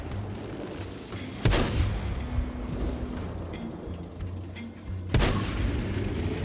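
A tank cannon fires in a video game, two heavy booming shots about four seconds apart, each a sharp blast trailing into rumble over a constant engine drone.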